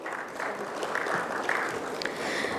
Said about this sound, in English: Can we have a big round of applause for Ms.